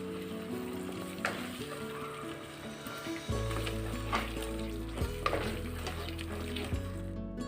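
Onion and cashew gravy with red chili sizzling steadily in a pan while being stirred, soft scraping of the spoon over a continuous frying hiss, with no talking.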